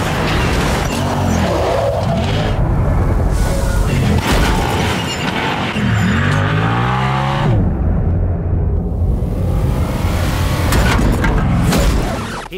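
Bone stock Polaris Razor 1000 off-road buggy in the Forza Horizon 3 Big Air showcase event, its engine droning and revving loudly and continuously with pitch sweeps as it accelerates, plus occasional thumps and crashes.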